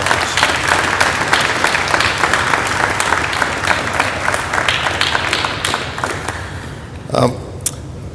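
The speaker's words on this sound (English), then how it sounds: "let's give the panel another round of applause" An audience applauds a panel at a naval symposium in a sustained burst of clapping that gradually thins out, followed by a short murmur near the end.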